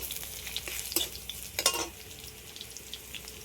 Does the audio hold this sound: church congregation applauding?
no